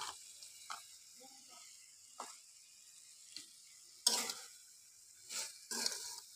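A spatula scrapes and stirs dried loitta fish with green chilies in a pan, producing sparse, quiet scraping strokes and soft sizzling, with a few louder stirs toward the end.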